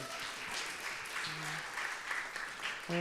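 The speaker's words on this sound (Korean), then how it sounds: "모두 환영의 박수 한 번만 부탁드려요" At a Sunday church youth service, young worshippers clap in welcome for a newcomer, a fairly quiet, even patter of applause lasting a few seconds with a faint voice underneath.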